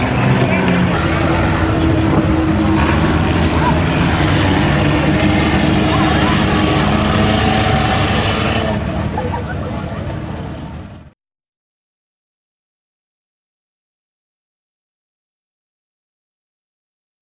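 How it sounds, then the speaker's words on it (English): Race cars roar past on a speedway track as one loud, continuous engine drone that fades over the last seconds before cutting to silence. "here comes the 18R of Mark Rosa, 2nd place"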